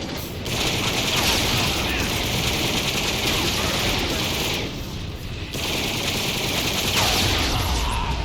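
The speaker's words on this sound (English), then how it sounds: "hearing that classic Gen 1 blaster fire brought nostalgia flowing through my veins" Classic Gen 1 Transformers blaster fire from Rise of the Dark Spark, a dense, loud, continuous stream of rapid energy shots with mechanical clatter, pausing briefly before resuming.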